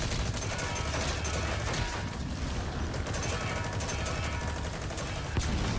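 Sustained gunfire in Metal Gear Solid V, with rapid bursts and shots that continue densely throughout at steady, loud volume and no pause.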